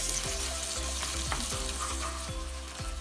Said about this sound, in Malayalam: ഇനി നമുക്കിതിലേക്ക് ജിഞ്ചർ ഗാർലിക് പേസ്റ്റ് ചേർത്ത് കൊടുക്കണം.